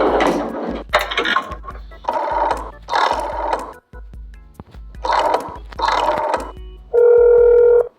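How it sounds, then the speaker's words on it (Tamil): A repeated alarm ringing in the horror video game That's Not My Neighbor, sounding in several loud bursts with short gaps, then ending in one steady, sustained buzzing tone. "சரி ஓகே, அந்த அலாரத்தை ஆஃப் பண்ணியாச்சு"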